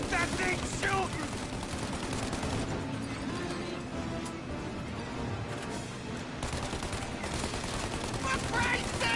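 Rapid bursts of automatic gunfire in the Mafia remake video game, a dense, continuous fusillade that stays loud and close throughout, with raised voices shouting over the shooting.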